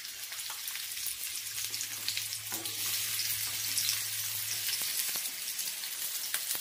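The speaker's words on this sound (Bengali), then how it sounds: "এবার আমরা একে একে করে বাকি যে সবজিগুলো আছে সেগুলো ভেজে নেব" Onions and other vegetables frying in a pan give a steady, moderately faint sizzle with fine crackle throughout, a low hum running beneath for the first few seconds.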